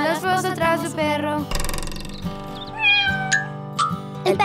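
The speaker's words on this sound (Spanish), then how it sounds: "El perro trajo un gato" A cat meows in a Spanish-language children's nursery song, a few rising and falling mewing cries laid over bright, steady music and sung melody.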